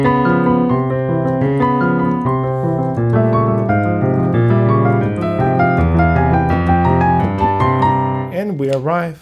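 Piano cadence built on an Italian augmented sixth chord from the first movement of Beethoven's Piano Sonata No. 1, a sustained flow of shifting chords heard alone for most of the passage, with a voice entering briefly at the very end.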